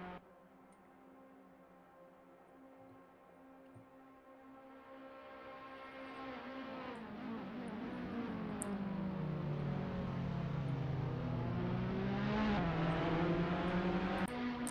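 Formula Alfa race cars at Monza drive through the exit of the Alboreto curve onto the start-finish straight. Their engines hold a steady, buzzing drone that rises in pitch and grows louder as the cars accelerate, and no voices are heard.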